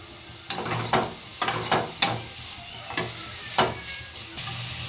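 Vegetable pieces sizzle in a pan with salt, turmeric and tempering spices, with a spatula stirring and scraping in about seven sharp, irregular strokes over a continuous soft frying hiss, close and alone.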